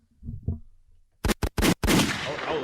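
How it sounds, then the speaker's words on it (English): Gunshot sound effects fire four times in quick succession, loud sharp blasts with the last one trailing into a long rumbling decay, following a few soft murmured sounds. "I feel like it did warrant some gunshots"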